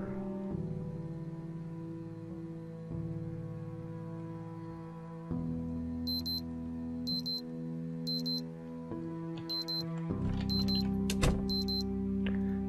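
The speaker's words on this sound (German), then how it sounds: "Wecker abstellen?" An alarm clock in the video game Project Zomboid beeps in a steady series of short, evenly spaced electronic pulses over a sustained tonal game-music background. No one speaks.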